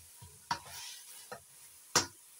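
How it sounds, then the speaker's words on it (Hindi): Minced meat keema cooks in a pot with its oil starting to separate, and a spoon stirs it in three short scraping strokes spaced over a couple of seconds against a quiet background. "अब मैं कभी कभी चम्मच चलाऊंगी और इसको खुश कर लूंगी।"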